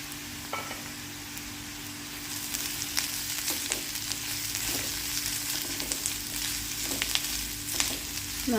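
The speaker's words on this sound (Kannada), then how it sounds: "ಒಗ್ಗರಣೆ ಆಗಿದೆ. ಇವಾಗ ಕಾಯಿ ತುರಿನ ಆ್ಯಡ್ ಮಾಡೋಣ." Grated coconut sizzles steadily in a hot oil tempering of mustard seeds, chillies and curry leaves for horse gram sambar, with a constant frying hiss and occasional sharper crackles and stirring clicks, close up and without talk.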